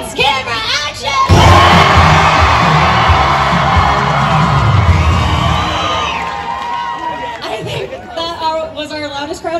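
A loud crowd cheers, whoops and shouts, children among them, at a Universal Studios Hollywood animal actors show, the roar swelling for several seconds before easing back; a voice talks briefly at the start and end.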